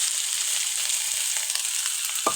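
Chopped onions and green chilies fry in oil in a pan, giving a steady close sizzle with faint stirring scrapes and a short clink near the end.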